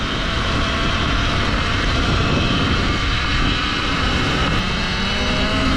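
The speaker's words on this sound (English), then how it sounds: "There's still a lot of chain noise and whirring going on" A Sur Ron electric motorbike rides in eco mode, giving off a constant broadband whir with chain noise and steady road roar, loud and unbroken throughout, no voices.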